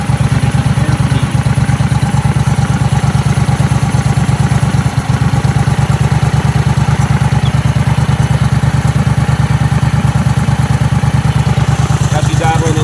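A loud Mud Buddy dual-carburetor boat engine idles with a rapid, steady chugging pulse and some mechanical clatter, running evenly for several seconds.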